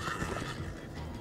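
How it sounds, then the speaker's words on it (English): A horse whinnying in Minecraft Story Mode, a short, strained neigh mixed with game noise, moderately loud and alone over about a second. "Slow down, horse!"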